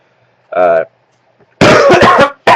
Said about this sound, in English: I might excuse me, coughing a lot.